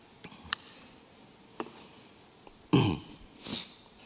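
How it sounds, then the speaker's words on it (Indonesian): A man, sitting quietly with faint clicks around him, gives a sharp throat clearing and then a short cough, both close and brief and separated by quiet pauses. "lagi batuk saya"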